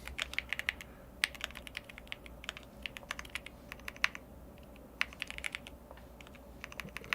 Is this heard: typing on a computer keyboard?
yes